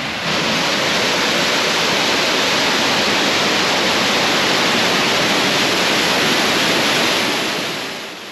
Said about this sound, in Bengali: এখান থেকে আমরা ঝর্ণার আওয়াজ পাচ্ছি